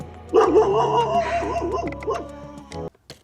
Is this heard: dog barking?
yes